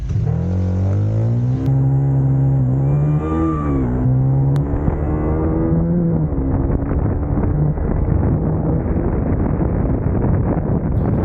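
An inline-four motorcycle accelerates at full throttle toward top speed, engine pitch climbing through the gears with brief shift dips, loud and close, then heavy wind rush swamps the engine as speed builds.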